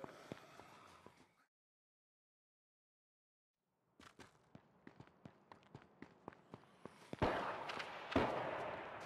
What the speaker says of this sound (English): There's someone shooting near to me.